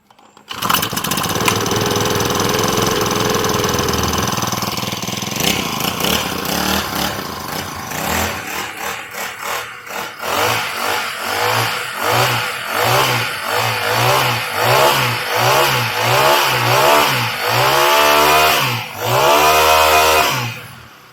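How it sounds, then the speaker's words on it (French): A four-stroke brush cutter engine starts and idles, then revs up in a string of rhythmic throttle bursts that grow louder and faster toward the end, running close up and alone. "nous avons là un moteur de débroussailleuse 4 temps que je vais faire tourner quelques instants devant vous."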